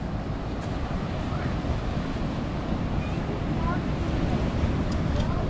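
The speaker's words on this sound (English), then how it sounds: "we have an onshore southerly wind here as well" Strong onshore southerly wind blows across an open beach, a steady, loud roar of wind buffeting the microphone mixed with the wash of surf, continuous for the whole stretch with no pauses.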